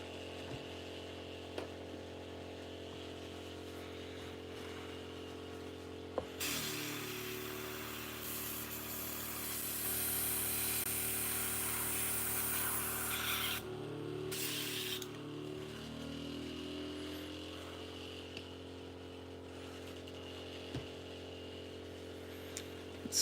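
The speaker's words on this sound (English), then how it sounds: "Let's finish cleaning out this airbrush real quick." An airbrush being cleaned out sprays with a hissing rush for about seven seconds, drops out briefly, then returns in a short burst. A steady mechanical hum runs beneath it, likely the compressor.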